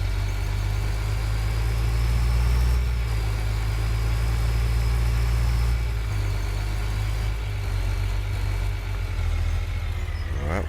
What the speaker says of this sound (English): Drive into our farm, dump off the silo, return our tractor back